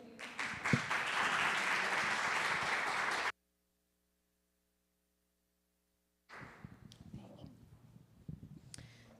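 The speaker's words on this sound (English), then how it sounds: "Another round of applause for our first two presenters." An audience at a workforce solutions event claps for two presenters, a dense, loud burst of applause lasting about three seconds before cutting to silence, followed by softer room noise and faint scattered sounds.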